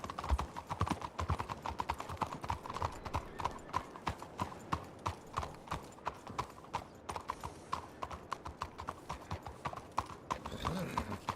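Steady clip-clop of horse hooves on a road in a video game, a continuous near rhythm of hoof strikes with someone talking over it now and then.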